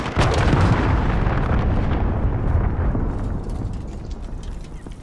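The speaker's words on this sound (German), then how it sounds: "Verbündeter Marschflugkörper unterwegs." A loud explosion from an allied cruise missile strike in the online multiplayer game Call of Duty: Modern Warfare, a heavy broadband boom that rolls on and slowly fades over several seconds.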